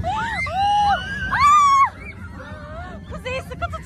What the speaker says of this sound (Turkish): ne kadar çok bağırıyor